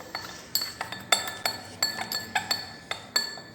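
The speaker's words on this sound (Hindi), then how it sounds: "ठीक है, इसको हम अच्छी तरह मिक्स कर लेंगे इसके अंदर" A spoon clinks steadily against a glass while a water solution is stirred to dissolve crystals, making bright ringing taps in a fairly even rhythm, about a dozen in a few seconds, close and quiet with no talking.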